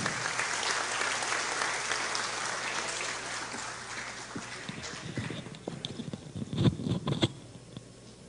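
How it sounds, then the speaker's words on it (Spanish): Applause from an in-person crowd at the official launch ceremony of Pastaza's provincialization festivities, steady and moderately loud for several seconds, then thinning into scattered claps and a few louder bursts near the end. "Brindémosle a él un fuerte aplauso"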